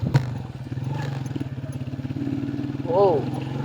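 A motorcycle engine rumbles with a steady pulsing beat as it rides a rough, unpaved bypass road, with clattering from the bumpy surface and a voice speaking briefly over it.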